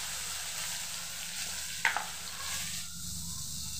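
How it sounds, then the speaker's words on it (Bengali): Brinjal pieces fry in hot oil in a kadai with a soft, steady sizzle, and a couple of faint stirring clinks come midway. "এখন কড়াইতে তেল গরম করে নিলাম, আর বেগুনের টুকরাগুলো কেটে নিয়েছিলাম সেগুলো ভেজে নেব"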